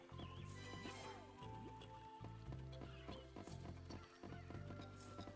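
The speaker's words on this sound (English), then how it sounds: "Did I hear a rooster?" A rooster crows in the video game Jack of All Tribes, set amid looping game music with a steady low beat, light clucking and clip-clop-like effects throughout.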